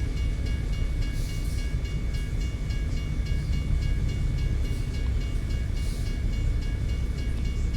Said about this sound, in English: I got a train coming.